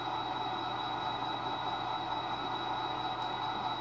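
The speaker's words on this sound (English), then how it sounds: "we pulled the pin on these cars. They rolling freely and we don't have no air" Four uncoupled railroad cars rolling freely with no air brakes in a switching yard, giving a steady, loud broadband rumble with a faint high tonal whine throughout, no talk.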